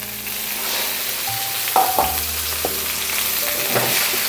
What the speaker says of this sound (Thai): เอาลงไปคั่วเลยครับ